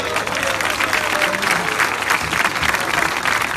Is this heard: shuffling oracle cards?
no